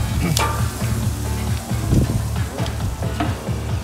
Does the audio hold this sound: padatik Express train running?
no